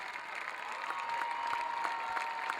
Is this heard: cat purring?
no